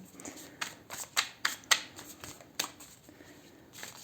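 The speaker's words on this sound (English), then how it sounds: "These cards are, I don't know, they just a little bit sticky today. It's hard to shuffle them." Sticky tarot cards being shuffled, a close run of crisp riffling bursts and flicks in uneven clusters, fairly quiet and alone.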